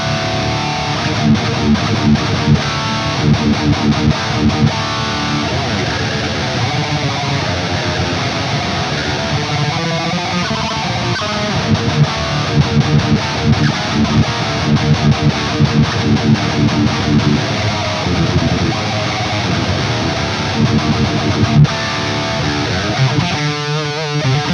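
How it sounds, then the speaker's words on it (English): Electric guitar played alone through an amp simulator with a Mendel impulse response cabinet, number 1, giving a thick, distorted, sustained tone with chords and riffs, continuous and loud throughout. "I'm just gonna play some guitar by myself with an amp sim."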